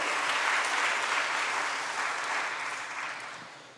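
Sustained applause from a church congregation at a Sunday worship service, a broad wash of clapping that holds steady and then gradually fades toward the end.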